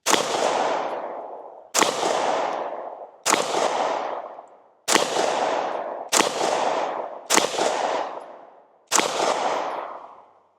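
Seven suppressed shots from a DUSK19 handgun, each a sharp muffled crack with a short decaying tail, fired alone at uneven intervals of roughly one to two seconds.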